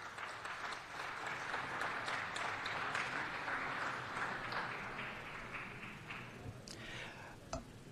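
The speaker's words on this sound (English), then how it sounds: "Give him another round of applause." An audience at a city council meeting gives sustained applause lasting about eight seconds, a dense, even patter of many hands that eases slightly near the end.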